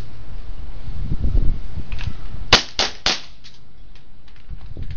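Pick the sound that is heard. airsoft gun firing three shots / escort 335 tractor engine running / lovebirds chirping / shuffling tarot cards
airsoft gun firing three shots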